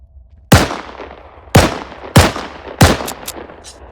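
Four loud, close single shots from a G43 rifle in the IFA3 WarMod game, each a sharp crack with a short decaying tail, fired at uneven intervals.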